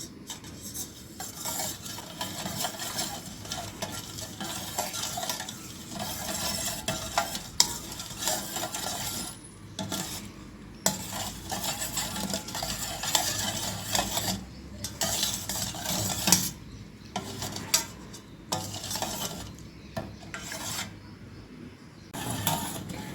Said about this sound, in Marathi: तर हे छान हलवून घेते. बराच वेळ लागतो थोडासा गूळ वितळवायला.